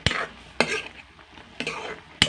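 Instant noodles being stirred in a pan at home: three or four sharp utensil scrapes spaced roughly half a second to a second apart, close and fairly loud, with quiet gaps between and no talking.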